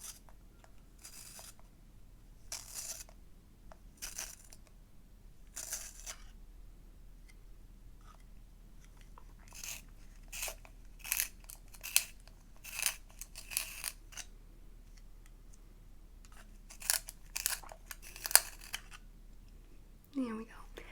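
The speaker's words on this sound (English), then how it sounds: "I'm going to sharpen my pencil very quickly." A pencil twisted in a small handheld sharpener, heard as close, crisp scraping bursts that repeat in short groups, with soft whispered talk in between.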